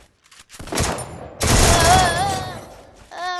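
Gunfire bursts from a shooting video game sound loud and close, with a short volley followed by a longer sustained burst, while an excited voice talks over it.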